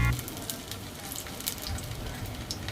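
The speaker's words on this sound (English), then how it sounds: "fry some plantain" Plantain slices frying in hot oil, a steady faint sizzle with scattered crackles and pops throughout.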